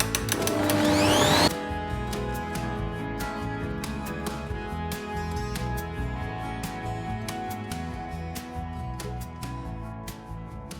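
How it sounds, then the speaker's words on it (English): An electric mixer whips egg whites and sugar for meringue on high speed, a steady loud mechanical whir with regular clicking ticks running throughout after a brief louder burst at the start. "turn the mixer back on high speed, and I'll slowly be adding all of this sugar 1 tablespoon at a time"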